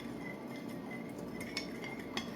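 A utensil stirs yeast into a bread mixture for Amish sandwich bread with soft, quiet scraping and a few light clinks against the bowl, close by with no talk.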